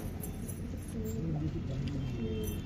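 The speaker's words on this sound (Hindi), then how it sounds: "ये कबूतर है भाई जो दौड़ रहे हैं भाई के, शिवम भाई की छत पे है भाई आज हम" Soft, low pigeon coos repeat through a constant background hum, faint and somewhat distant, from racing pigeons on a rooftop.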